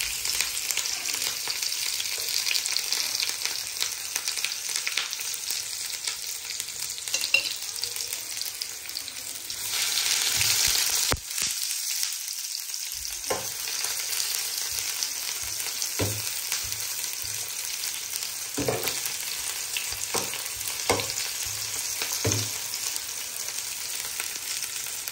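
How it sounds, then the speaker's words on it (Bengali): Chopped onion sizzling steadily in hot olive oil in a home kitchen pan, a dense continuous crackle throughout with occasional stirring scrapes and clinks. "তেলটা গরম হয়ে গেছে অলমোস্ট, তখন হচ্ছে এখানে আমি পেঁয়াজ দিয়ে দিলাম।"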